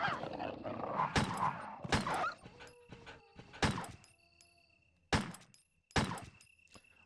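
Cerberus zombie dogs in Resident Evil: Director's Cut, snarling and whimpering yelps at close range mixed with sharp thuds and impacts, bursts coming in an irregular rhythm with brief quiet gaps between them.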